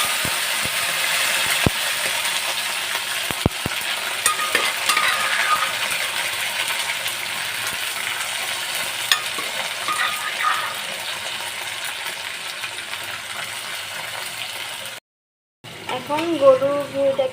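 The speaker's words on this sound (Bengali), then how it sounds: "গরুর ভুঁড়িটাকে ভাজা ভাজা করে নিব" Boiled beef tripe fries in a reddish spice paste in a pan: a steady close sizzle with occasional sharp clicks from stirring, before a brief silence and a voice speaking at the end.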